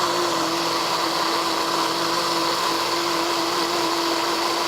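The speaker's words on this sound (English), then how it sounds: "So that's going right into the blender." A blender whirs steadily while mixing gluten-free crepe batter, a loud continuous motor whine with a stable tone and no pauses or talk.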